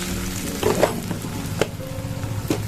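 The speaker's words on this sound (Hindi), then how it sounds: "चम्मच चला दिया गया" A spoon stirs turmeric and spices through frying onions and potatoes in a pan, a soft continuous sizzle with a few sharper scraping knocks of the spoon, close up and short.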